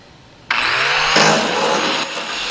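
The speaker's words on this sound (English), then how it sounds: "To get the gusset ground flat to conform where the welds are." An angle grinder switches on abruptly and grinds a welded steel gusset flat, a loud continuous high whine with a harsh abrasive hiss that shifts in pitch as the disc bears on the raised weld.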